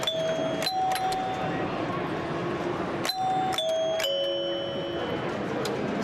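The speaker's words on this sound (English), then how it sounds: "they had these chimes over here, so you could see in old EM machines, you hit the buttons, and this is where the sound effects would come from" Chimes of old electromechanical pinball machines on display at a pinball expo, clear bright metallic dings struck several times in pairs and short runs, each ringing out over a steady hall murmur and crowd noise.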